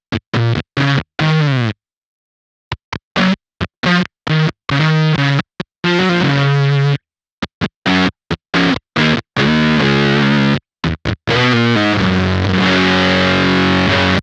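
Champion Leccy Dunsh fuzz pedal set to high bias with the gate engaged, a harsh distorted tone chopped into stuttering bursts with abrupt silent cutoffs between notes, ending in a longer sustained buzzing passage.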